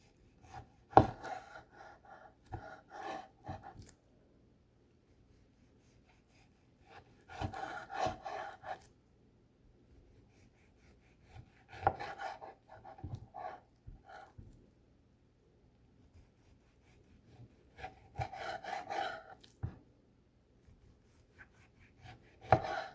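A knife cuts through a rolled, rice-free kimbap on a board in several short bursts of sawing strokes, separated by quiet pauses, close and clear with no talking.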